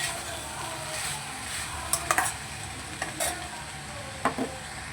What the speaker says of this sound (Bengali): আদা, জিরে, শুকনো লঙ্কা বাটা দিয়ে এবার ভালো করে মিশিয়ে নিলাম।